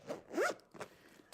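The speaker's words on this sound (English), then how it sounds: "that big zipper sound was me putting the camera away" A big zipper on a camera bag is pulled shut in a few quick rasping strokes, close to the microphone and fairly quiet, with no talk over it.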